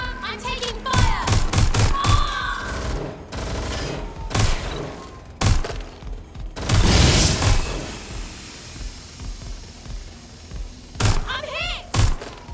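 Gunfire rattles through a video game, heavy bursts of shots and thuds arriving in irregular clusters with pauses between, loud and close, with a voice calling out among the shots.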